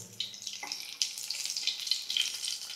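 Garlic dropped into hot ghee to temper gongura dal gives a close, bright sizzle. The sizzle grows sharply partway through and holds as a steady crackling hiss.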